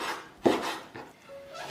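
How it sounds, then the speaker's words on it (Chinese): Pork belly is diced with a knife on a board, with three distinct close chopping knocks spaced apart amid quiet scraping, and no one talking. "切成小粒，它吃起来呢会比剁碎的口感更好一些"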